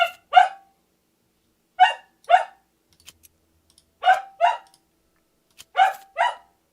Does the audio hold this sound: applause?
no